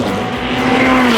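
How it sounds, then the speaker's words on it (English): A McLaren 720S GT3X unrestricted track special at speed on a racing circuit, a loud steady high-revving engine drone with a rising harmonic whine, continuous and close throughout. "The 720S GT3X is McLaren's no-rules track special based on the GT3 platform."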